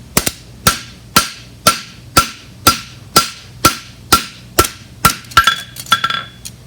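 A hammer strikes a bar horseshoe to flatten its outside edge, eleven sharp ringing metallic blows in a steady rhythm, then a quicker cluster of lighter taps, loud and close with no talk.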